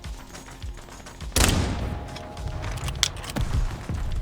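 A loud gunshot cracks out in a VR shooter game at a capture point, followed by a few fainter shots and game noise in the seconds after.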